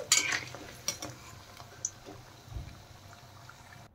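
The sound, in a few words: lifting fried capsicum pakoras out of the pan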